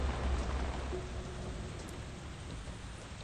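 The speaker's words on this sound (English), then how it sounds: "the rain sound is gonna put me asleep again" Steady, soft rain falls in the Metal Gear Solid 2 video game, an even hiss of drops with no gaps and no voices.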